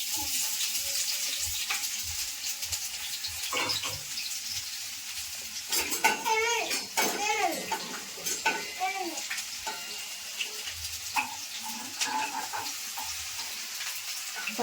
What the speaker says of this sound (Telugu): ఇప్పుడైతే ఆనియన్స్ వేస్తున్నాను